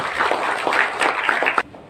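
A seminar audience claps for Dr. Atabik Lutfi, dense overlapping applause for under two seconds before it cuts off abruptly.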